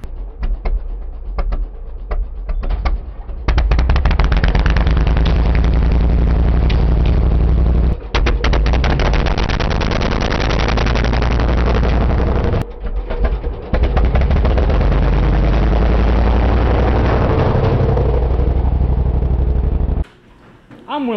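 A 50 HP 670cc drag rail kart engine revs loudly and continuously, a dense roaring drone that holds for most of the run with brief dips, then cuts off near the end.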